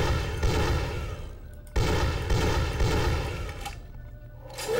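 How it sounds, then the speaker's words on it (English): Loud gunfire from a heavy gun in the Vampire The Masquerade - Bloodlines video game, with repeated booming shots and a short pause midway. "this gun is so loud"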